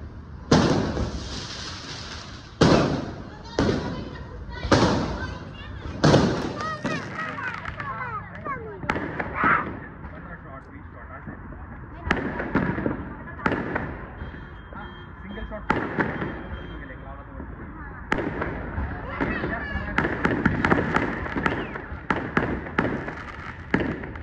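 Diwali firecrackers burst one after another outdoors, loud sharp bangs at irregular intervals with crackling and fizzing between them, while people talk and call out throughout.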